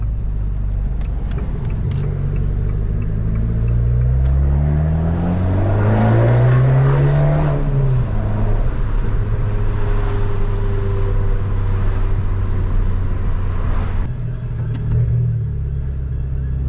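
A powerful car accelerates hard on a road, its engine note rising in a loud, sustained pull before easing off, close and continuous with no talking.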